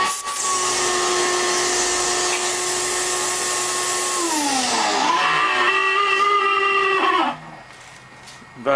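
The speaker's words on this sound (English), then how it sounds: "Vacuum cleaner's making some noise." A loud vacuum cleaner whines steadily, then its pitch drops and wavers as it winds down before cutting off, leaving near silence.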